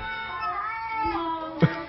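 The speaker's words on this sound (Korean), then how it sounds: "나가겠다는 고양이를 붙들고 어. 계속 목욕을 시키고 있습니다." A cat meows repeatedly while being held and bathed, its drawn-out, whiny calls close and clear with a louder cry near the end.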